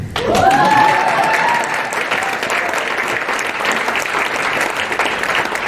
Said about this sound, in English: At this point, you can clap.